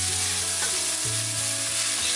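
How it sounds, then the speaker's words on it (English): Onions sautéing in olive oil over medium heat for a gluten-free green moong and mushroom curry, a loud, steady close sizzle with faint stirring and no talk. "Saute the onions."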